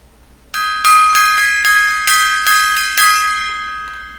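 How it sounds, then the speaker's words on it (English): A gong struck as a salute rings out loud and close, with several strikes in quick succession and a long shimmering metallic ring between them that slowly fades, with no voices. "it's a gong salute to Mr."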